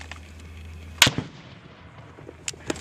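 US Marines fire M203 grenade launcher rounds outdoors, one sharp loud report followed by fainter distant thumps and pops spread over a few seconds.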